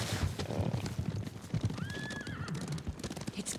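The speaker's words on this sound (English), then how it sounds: "Horses, they're coming for us." Horses in the video game Ghost of Tsushima Director's Cut gallop with rapid clip-clopping hooves while one gives a high, wavering whinny partway through, loud and close.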